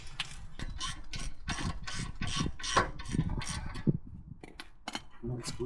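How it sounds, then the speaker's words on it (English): A hand ratchet clicks in quick bursts of rapid pawl ticks while tightening brake caliper screws on a Land Rover Defender Td5, with short pauses and faint metal clinks between strokes. "it's time to put back the screws that hold the brake caliper together"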